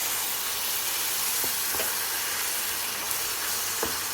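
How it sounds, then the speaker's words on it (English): Tomatoes and onions frying in oil for a cashew chicken curry base give a steady, close hiss and sizzle, broken by a few soft clicks of stirring. "Fry until the tomatoes meld with the onions and the oil rises to the top"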